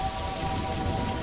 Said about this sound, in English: The steady drumming of the rain on the roof felt like a gentle, protective presence